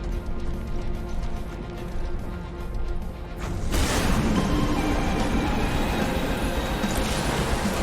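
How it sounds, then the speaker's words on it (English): A train in the video game Apex Legends rumbles loudly and steadily as it stops, with a rhythmic clacking in the first few seconds before a heavier roar takes over. "Train stopping."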